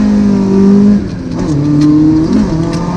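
A Toyota Corolla AE86 engine roars loudly up close while drifting, holding a high rev, dipping briefly, then climbing again, with the tone shifting through throttle changes.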